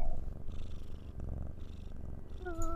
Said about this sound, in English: That is a loud purr.